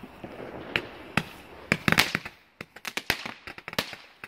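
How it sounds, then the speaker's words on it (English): New Year fireworks go off in a rapid series of sharp cracks and bangs, some clustered close together, heard from a moderate distance with no voices. "We're gonna make it explode."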